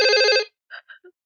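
A telephone rings in one loud, steady electronic burst of about half a second in an indoor film scene. It is followed by a few brief, quiet fragments of a voice.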